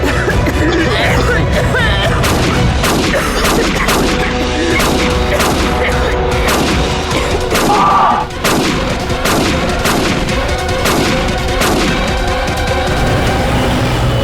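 Gunfire in a Hindi TV crime drama: loud, dense volleys of shots crack and boom almost without pause across the whole stretch.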